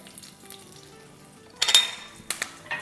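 Curry leaves, ajwain and crushed chillies hit hot oil and start sautéing, quiet at first, then a sudden burst of sizzling and crackling that flares again in short spurts near the end.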